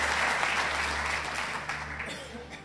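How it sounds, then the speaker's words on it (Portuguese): A church congregation applauds, a steady wash of clapping from many hands that slowly eases off, moderately loud over a low hum. "Palmas ao Senhor."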